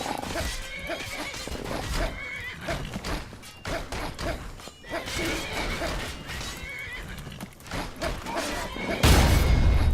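Horses whinny and neigh repeatedly while being attacked by grummites in a modded Oblivion video game, amid a busy soundscape of thuds and clatter, with a louder burst of noise at the very end.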